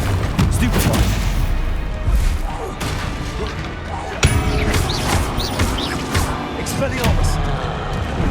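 Spell combat from Hogwarts Legacy, a dense, continuous barrage of magical blasts, crashes and impacts with a sharp hit near the middle, while a voice keeps calling out spell names throughout.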